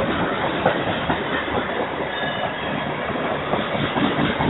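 Freight train rolling past heading northbound, a steady loud rumble with continuous clickety-clack of wagon wheels on rails and faint squeal, close and constant throughout with no talk.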